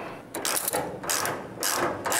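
Ratchet wrench tightening bolts on a car suspension strut mount, a few short bursts of rapid clicking, close and clear, with brief pauses between strokes.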